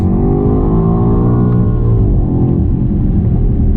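A BMW X6 M's big 625hp engine roars loudly and steadily, revving with a deep, rumbling growl that rises and falls slightly throughout.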